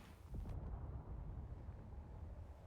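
A muffled boom with a short crackle in the video game Space Engineers, followed by a low rumbling tail that lingers at moderate distance.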